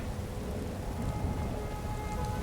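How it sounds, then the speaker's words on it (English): Steady rain falls in the video game Skyrim, a dense continuous hiss of drops with a low rumble beneath, even and unbroken throughout. "It's kind of cloudy and rainy."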